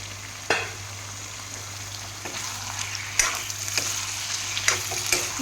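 Chicken pieces sizzling in hot oil as they are stirred in a pan for an Assamese-style curry, a steady frying hiss punctuated by several sharp scraping clacks of the spoon against the pan.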